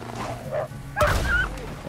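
Dogs in Red Dead Redemption 2 let out a few sharp barks and yips, close and fairly loud, with a whimpering edge and a burst of commotion near the middle.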